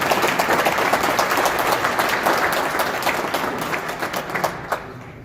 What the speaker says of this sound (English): Let's give the Imam a round of applause.